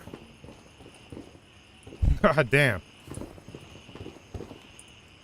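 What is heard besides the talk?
footsteps in the video game Gray Zone Warfare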